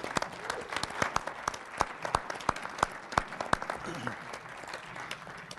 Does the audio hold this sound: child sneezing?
no